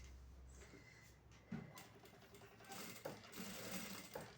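A sewing machine stitches fabric for a newborn's bath towel in short quiet bursts, the needle whirring in uneven runs with small clunks between them, close by and with no talk.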